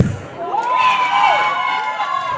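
Crowd cheering and shouting builds at a university fencing match in an indoor hall during the Roses 2024 competition, a steady, excited roar of many voices with some higher children's shouts mixed in.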